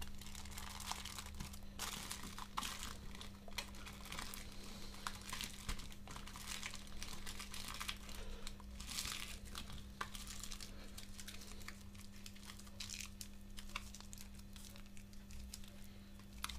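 Thin 14 micron Sayan hookah foil folded in four layers crinkles and crackles close up in a steady, busy stream of small crisp rustles over a low constant hum.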